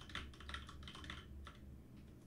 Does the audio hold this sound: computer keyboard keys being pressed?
yes